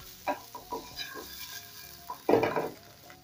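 Potato wedges toasting with spices in a pan give off a faint sizzle, broken by a few soft scrapes and turns, with one louder rustling stir near the end.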